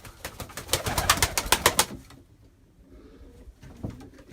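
Tumbler pigeons in a coop at a game-bird loft in Taşköprü, Kastamonu, coo in a run of close, rhythmic calls, then go quiet before a few softer sounds return.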